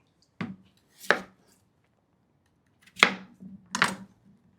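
Large chunks of sweet potato for a slow-cooked Jewish cholent are chopped with a knife on a board: four sharp, separate chops in two pairs, fairly quiet and close, with no talking.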